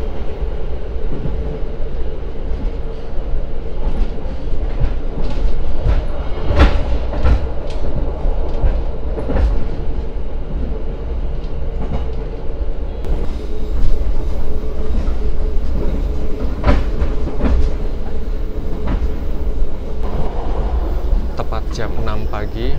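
Gajayana passenger train rolling on the rails after leaving Blitar station, a steady low rumble with rhythmic wheel clacks and occasional sharp rail clicks, heard continuously from inside the carriage.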